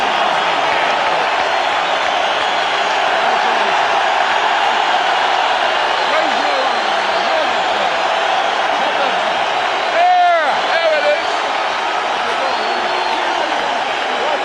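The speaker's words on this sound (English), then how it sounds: "listen to the crowd response for Vitali" A boxing arena crowd roars continuously for heavyweight Vitali Klitschko, a dense, loud wall of cheering with a few whistles rising briefly near the end.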